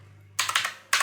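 Typing code on a computer keyboard: a few quick, close key clicks after a short near-silent pause, then one more click at the end.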